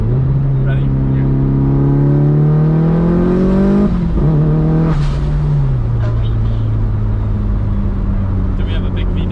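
A Mitsubishi Evo 5 with launch control accelerating hard through no-lift shifts, its engine note climbing steadily and then dropping sharply at each gear change, loud and close throughout, with people talking over it.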